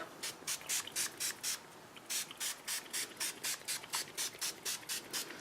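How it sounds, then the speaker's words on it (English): Glimmer Mist spray bottle misting onto paper, heard as a rapid series of short, crisp hissing sprays in steady pulses, two bursts of several quick pumps each, close and clear with no talking. "And then you go and add a constant spray and cover everything up."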